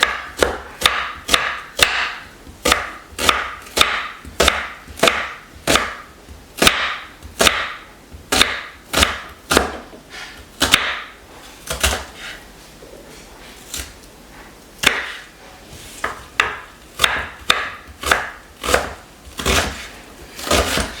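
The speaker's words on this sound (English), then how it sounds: "So I'm just gonna peel this and then dice it up." Peeled food diced with a knife on a cutting board for crockpot barbacoa, a steady run of crisp, close chopping strokes in quick bursts with short pauses, no voices.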